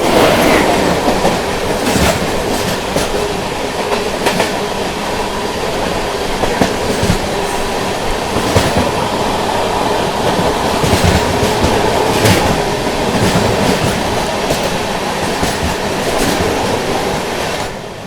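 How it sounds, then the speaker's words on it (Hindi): The Danapur–Secunderabad Superfast Express rushes past up close, a loud, sustained roar of rolling wagons with rhythmic clickety-clack wheel beats and occasional metallic squeals throughout. "सामने से आ रही है दानापुर से चलकर सिकंदराबाद की ओर जाने वाली दानापुर सिकंदराबाद सुपरफास्ट"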